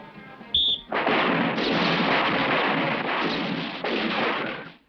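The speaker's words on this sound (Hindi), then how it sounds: "मुझ पर नहीं, निशाने पे गोली चला बेवकूफ।" Loud, sustained gunfire at a firing range target: after a short pause, a dense volley of shots roars almost without break for about four seconds.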